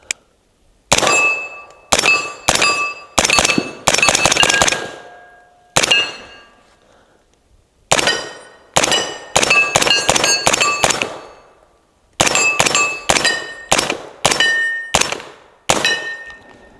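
AR-style rifle firing 300 Blackout subsonic rounds from a 25-round magazine, sharp loud reports in quick strings and clusters with brief pauses between groups, each shot ringing with a metallic clang.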